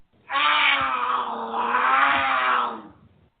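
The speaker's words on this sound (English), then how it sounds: "Do you have cougars on your porch swing?" A cougar snarls in one sustained, harsh, raspy growl lasting a few seconds, loud and close, alone with no talk.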